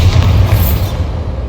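A Bombarda spell explodes in Hogwarts Legacy gameplay, one loud, deep boom with a rumbling low-end roar that fills the brief moment and fades at the end.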